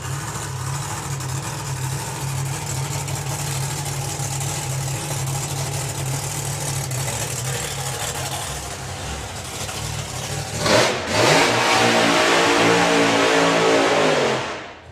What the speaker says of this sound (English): They've got to do a big old burnout.